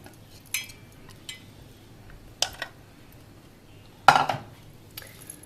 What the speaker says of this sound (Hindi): दही इसमें डाल देंगे,